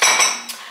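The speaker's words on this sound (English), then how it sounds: "I am here filling up my dishwasher with these dishes" Dishes and cutlery clinking as they are loaded into a home dishwasher: a bright metallic clatter, then a second lighter chink, close and brief with no talking.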